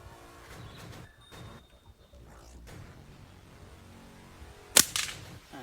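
A slingshot fired upward at mangoes in a tree gives one sharp, loud snap near the end, followed by brief rustling, after a quiet stretch of faint background sound.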